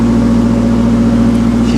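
An old truck engine idles high and loud at close range, a steady unbroken drone with no voices over it.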